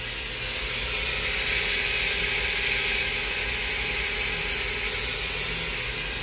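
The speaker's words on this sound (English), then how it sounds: "This is the main spindle at 2500 RPM" A Tsugami BO325II CNC Swiss-type lathe's main spindle spins at 2500 RPM, giving a constant airy whir and hiss at moderate level with no pauses or talking.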